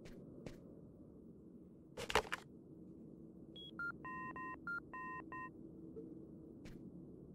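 Phone keypad tones from the video game Fahrenheit: Indigo Prophecy, a run of short, clean electronic beeps in quick succession after a sharp clatter, set against faint room hum.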